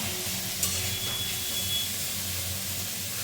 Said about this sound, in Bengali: পেঁয়াজ পাতা দিয়ে নাড়াচাড়া করে নিই ভালো করে।